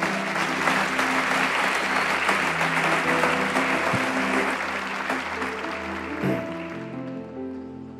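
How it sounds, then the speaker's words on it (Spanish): Audience applause for a couple called to the front at a church prophetic school session, a steady wash of clapping from a crowd that slowly fades away. "Denle un aplauso aquí a esta pareja."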